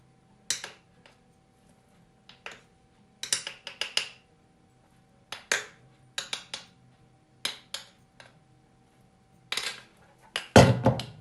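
Metal spoon clinking against a bowl while cocoa is added to banana chocolate cake batter, a series of sharp scattered clinks and taps close by, with a louder clatter at the end and no talking.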